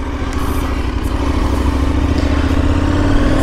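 A KTM 1290 Super Adventure motorcycle on a road test, its engine droning steadily and close up with a gradual rise in pitch as it accelerates, wind noise over the top.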